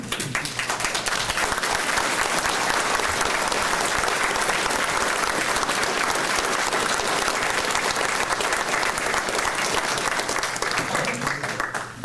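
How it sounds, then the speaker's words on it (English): A crowd at a fire department graduation ceremony gives a long, dense round of applause, loud and even from start to finish with no speech over it. "A round of applause first."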